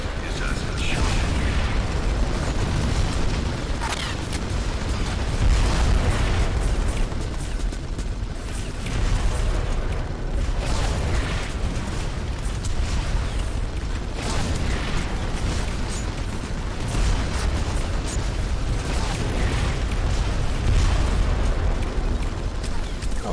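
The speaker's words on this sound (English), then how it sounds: "There go all my grenades." Grenade explosions in the video game Red Faction II, heard as dense, continuous booming bursts over a loud, rumbling din of game action with no gaps of quiet.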